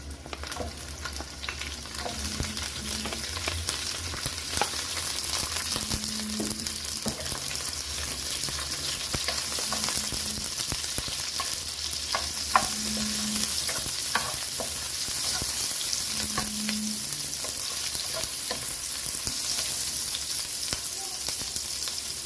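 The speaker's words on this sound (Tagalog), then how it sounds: "Konting gisa sa ating onion at garlic." Onion and garlic sauté in cooking oil in a pan, a steady close sizzle running throughout with intermittent scraping stirs and soft utensil knocks, no voices.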